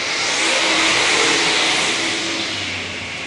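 ULMA late model race cars roar together as a side-by-side heat race gets the green flag at CMS, a loud, dense, continuous engine blare that swells briefly and holds steady.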